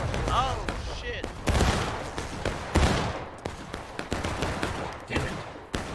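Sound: musket and cannon fire in War of Rights video game

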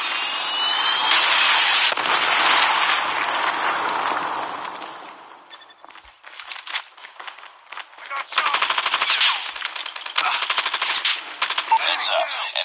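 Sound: sentry gun firing in video game

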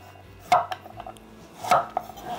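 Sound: knife chopping carrots

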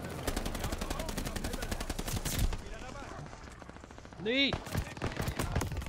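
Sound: pistol gunfire in Call of Duty: Vanguard video game

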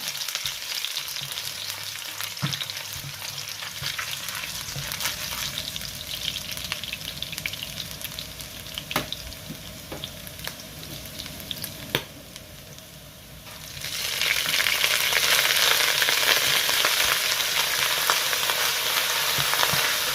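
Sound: garlic frying in a hot pan

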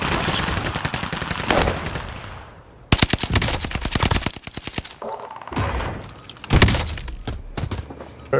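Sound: gunfire in video game Call of Duty Warzone

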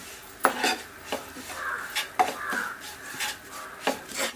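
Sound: stirring asafoetida powder and spices frying in a pan

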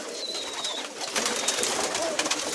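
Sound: pigeons cooing

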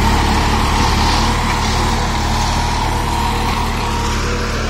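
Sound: New Holland 3032 35 hp tractor running in high gear

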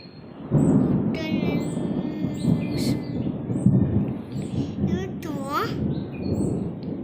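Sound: thunder before rain

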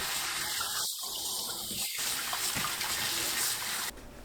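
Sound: rinsing blanched lotus root under cold water

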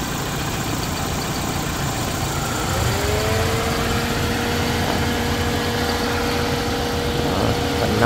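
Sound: used car engine idling

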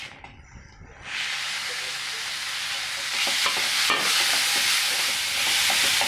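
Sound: onion, tomato and curry leaves frying for vermicelli upma

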